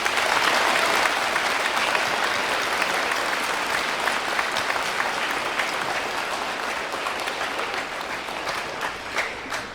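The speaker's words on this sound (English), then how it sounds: "let's give them a round of applause." An audience applauding veterans at a Veterans Day ceremony, dense sustained clapping from many people throughout, loud at first and slowly fading, with no voices over it.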